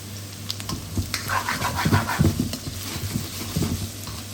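Spicy noodles with prawns and mushrooms stir-fried in a wok on an electric stove: a steady close sizzle broken by repeated scraping, stirring strokes of a utensil against the pan.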